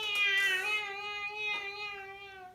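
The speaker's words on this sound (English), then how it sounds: "I heard it go meow" A cat lets out one long, drawn-out meow, close and fairly clear, with a slight wavering pitch and nothing else in the background.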